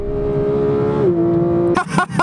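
A Porsche 911 GT3 engine drones at steady revs while driving, then pitches down as the car shifts, before bursts of sharp acceleration near the end. The engine is loud and close, with no voices.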